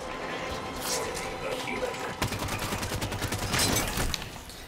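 Rapid bursts of gunfire ring out in the Halo 5 video game, dense clattering shots layered over game effects while someone talks.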